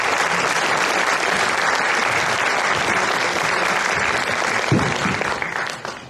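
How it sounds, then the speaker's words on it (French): An audience at a public political meeting in a hall applauds, dense sustained clapping filling the room, steady then tapering off near the end, with no talk over it. "Et je vous demande de l'applaudir"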